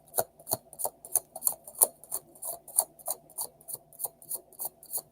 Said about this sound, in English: Okay, that's a good shuffle.